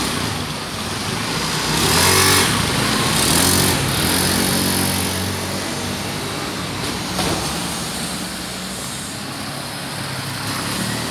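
A Honda Beat FI motor scooter engine with a racing V-belt drones steadily throughout, revving slightly louder early on, with a broad buzzing hum and no talking.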